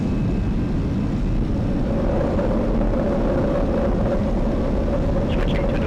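Airbus A319 with CFM engines on its takeoff roll in a flight simulator, a loud steady low rumbling roar with a faint tonal whine, no voices heard.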